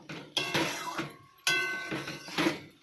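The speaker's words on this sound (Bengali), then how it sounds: "এখন ভেজে রাখা আলুগুলো এর মধ্যে দিয়ে দেব, দিয়ে আর একটু আমি কষিয়ে নেব।" Fried potatoes tipped into a spiced masala in a cooking pan for vegetarian aloo dum, giving two clattering bursts with light metallic clinks and a short sizzle-like hiss. No one speaks.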